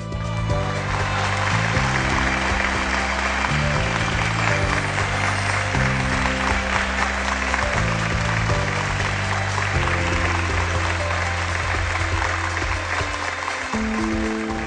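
A large audience claps steadily to welcome a poet at a mushaira on a televised Eid special, a dense continuous wash of applause lasting the whole stretch, with music or background tones underneath.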